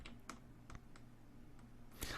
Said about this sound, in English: I'll press Shift on my keyboard and use the right arrow key to select that portion.